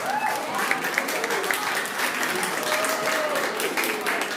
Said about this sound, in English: round of applause first for the scores